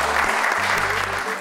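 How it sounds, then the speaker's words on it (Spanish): Audience applause at an event, a dense steady wash of clapping hands filling the short stretch without letup. "El aplauso para ella."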